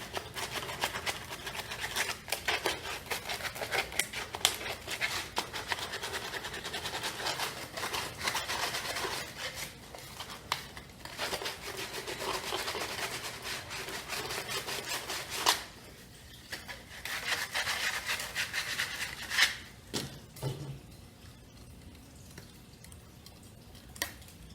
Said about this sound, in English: Now I'm going to take that sandpaper we used and hit it with the sandpaper